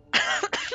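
A single sharp cough with a brief second burst, close and clear.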